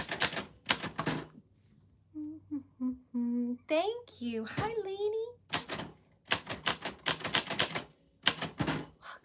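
Keys clatter on a 1949 Royal Arrow vintage typewriter in quick, crisp bursts of close strikes at the start and again at the end, with a person briefly speaking in between.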